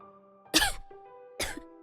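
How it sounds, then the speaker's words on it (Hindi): A woman coughs hard after choking on a salty snack, two forceful, raspy bursts about a second apart with a faint tonal hum between them, close and loud with no words spoken. "इतनी खांस रही हो।"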